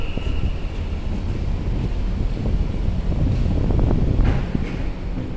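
Strong wind buffets the microphone in a continuous, loud, low roar that swells slightly and never lets up.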